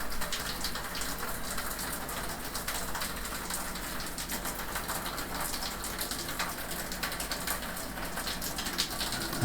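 Water from a repaired Triton Aquatronic 3+ electric shower pours steadily, a faint, even hiss of spray that holds for the whole stretch with no talking.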